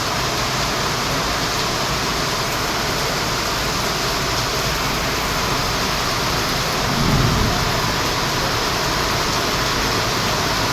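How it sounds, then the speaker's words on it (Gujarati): A dense, even wash of rain hiss in Madhya Pradesh, India, fills the whole stretch, steady and loud with no pauses or voices. "મધ્યપ્રદેશમાં વરસાદ ચાલુ છે અત્યારે"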